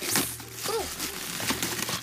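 Plastic wrapping on a Christmas decoration crinkles up close in a brief, soft burst of rustling while it is pulled off.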